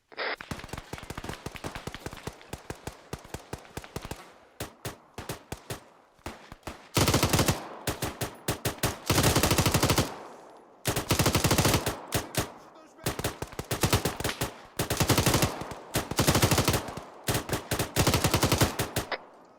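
Gunfire in the ArmA military video game, rapid bursts of machine-gun and rifle fire in repeated volleys with short gaps, sharp and close, growing louder and denser midway, with brief voices between.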